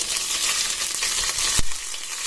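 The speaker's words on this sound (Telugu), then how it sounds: "ఇప్పుడు కొబ్బరిని బాగా వేయించుకోవాలండి" Freshly ground raw coconut frying in ghee in a kadai, a steady dense sizzle running throughout with a brief scrape of stirring near the end, close and fairly loud with no voices.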